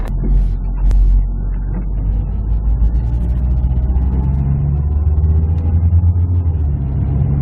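A project car drives along on underinflated tires, with a steady low engine rumble and road noise from inside the cabin and faint rattles over the top.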